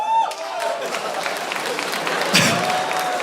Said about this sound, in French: Mais vous applaudissez le diabète?